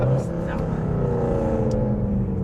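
A Mercedes-Benz C63 AMG engine rumbles steadily from inside the car while driving, a deep continuous drone with a faint voice briefly over it.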